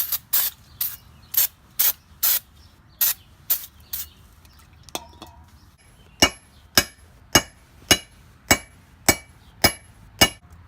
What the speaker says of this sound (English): So we're going to spray it down with some brake cleaner.